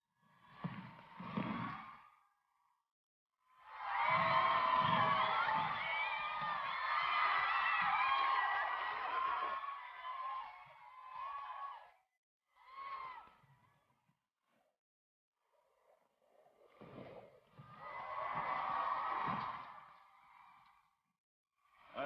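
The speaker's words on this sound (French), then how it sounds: "Un tonnerre d'applaudissements" At a double dutch competition, a crowd cheers and whoops in loud bursts separated by quiet pauses, with high shouted voices rising and falling.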